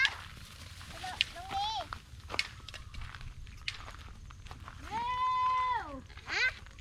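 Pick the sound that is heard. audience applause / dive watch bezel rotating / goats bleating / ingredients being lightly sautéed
goats bleating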